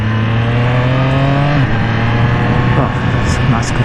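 A 2021 Triumph Street Triple RS revs hard under acceleration, its engine note climbing and then dropping sharply as the quick shifter snaps through gear changes, loud and close with continuous wind rush around the rider.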